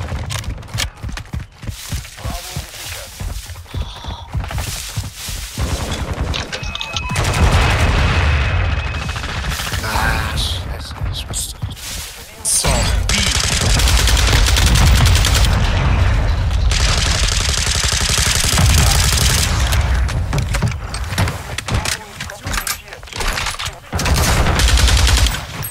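Gun turret fire in Call of Duty Modern Warfare 2, loud rapid bursts of automatic gunfire with dense explosive roaring stretches, continuous and close throughout.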